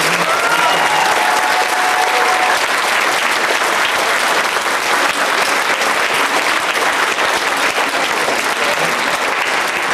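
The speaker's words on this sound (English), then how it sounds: "Let's have a round of applause for the people." Audience at a BotCon 2001 convention panel breaks into loud, sustained applause, a thick continuous roar of many hands clapping for around ten seconds.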